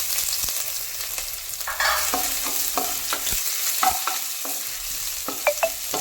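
Ginger and garlic sauté in hot coconut oil with a steady sizzle, while a spoon stirs and scrapes the pan in scattered clinks and scrapes. Close and fairly quiet, with no voices.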